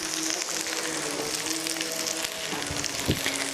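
Turkey goulash sizzling and frying in a pan, a dense, steady crackle and hiss close up with a few clinks and stirring knocks near the end.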